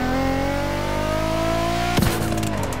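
A GTR Haru car engine in The Crew racing game revs hard, its rising howl climbing steadily up close before breaking into a sharp, crackling higher-rev burst.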